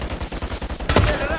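Rapid bursts of turret machine-gun fire in Call of Duty: Modern Warfare III, a fast, evenly spaced rattle of shots ending in a louder, sharper blast, close and intense.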